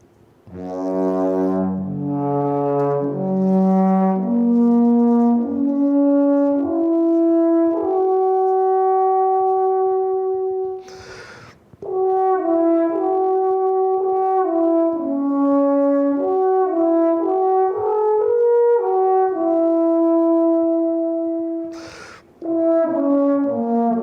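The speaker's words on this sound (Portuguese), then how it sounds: "Esse é o som da trompa alpina," A long alphorn plays a slow melody of sustained, resonant brass notes, loud and close, with two short breath pauses between phrases and no talking.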